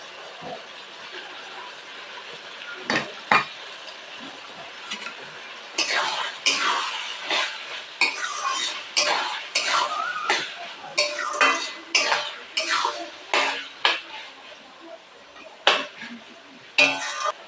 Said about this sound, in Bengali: এভাবে নাড়াচাড়া করবো